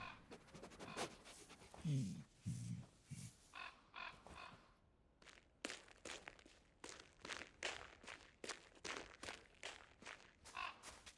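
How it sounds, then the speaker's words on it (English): A dog in a video game panting in steady rapid breaths, with soft footstep-like taps and a brief low growl early on, fairly close and quiet with no talking. "the dog's sleeping on a bench"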